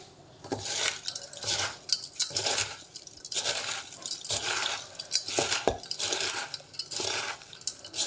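Rhythmic squelching and rustling of flattened rice being mixed by hand in a bowl, repeated strokes with occasional light clinks, no talking.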